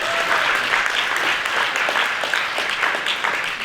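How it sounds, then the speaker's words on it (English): An audience at an African Heritage Month gala night applauds with steady, dense clapping that holds at full strength for the whole few seconds, with no talk over it. "Please give them a big round of applause again."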